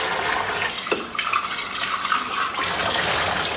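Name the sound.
tap water filling a flower vase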